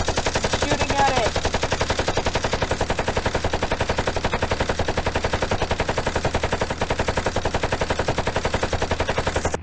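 Rapid, continuous machine-gun fire from a plane shooting at another aircraft in a Roblox plane game, a dense unbroken stream of shots running loud throughout, with a voice briefly over it early on.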